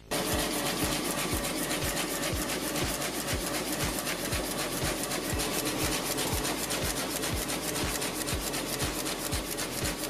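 Komori printing press running in a book-printing press room, with a steady mechanical drone and a fast, regular thumping as paper sheets feed through. The rhythm stays close and loud throughout, with no talk over it.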